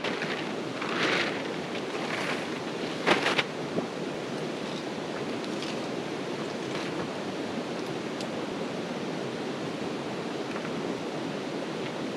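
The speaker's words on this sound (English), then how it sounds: "You can probably hear it in the background, but there's a little creek right there behind us." Steady broadband rush of a small creek flowing behind a mountain campsite in Colorado, continuous and fairly loud, with a few brief bumps and knocks near the start.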